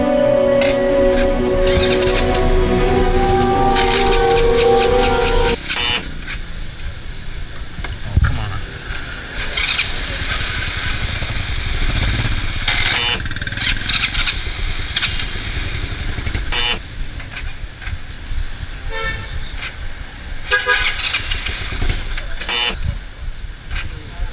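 An old motorcycle rides through Hanoi traffic, its engine droning loudly and then settling into a rougher running note, with passing vehicles, horn blips and wind rumble around it and occasional talk.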